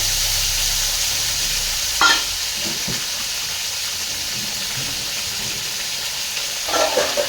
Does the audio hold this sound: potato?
yes